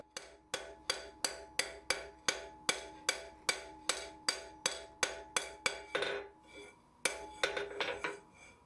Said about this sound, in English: I'm holding the cross-peen at an angle to create a very steep bevel on the end of the bar